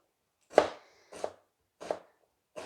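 A knife chops an onion on a wooden board in four separate strokes, evenly spaced and close, with silence in between.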